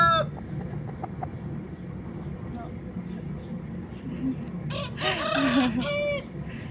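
A fighting rooster crows loudly near the end, following quieter murmuring and low background noise at the start.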